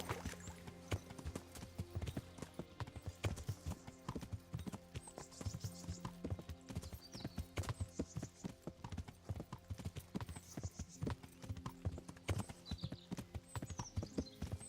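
Horse hooves in the Kingdom Come Deliverance video game pound out a steady galloping clip-clop rhythm, close and continuous, with occasional snorts and no talking.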